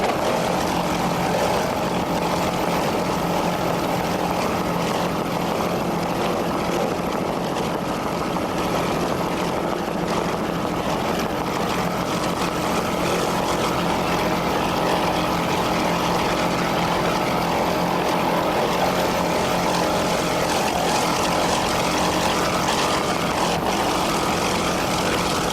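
A 26-foot Scarab offshore racing powerboat at the 1994 Suncoast Offshore Grand Prix in Sarasota roaring at full throttle, a loud, unbroken engine drone with wind and hull rush throughout.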